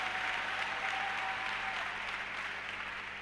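A church congregation applauds steadily, a dense, continuous wash of clapping from a large crowd that holds evenly and eases slightly at the end.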